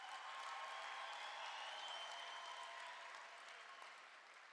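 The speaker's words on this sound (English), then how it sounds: "A round of applause for your lecturers and heads of department." Graduation audience in a hall applauding the lecturers, a faint, distant wash of steady clapping that holds evenly and then tapers off slightly toward the end.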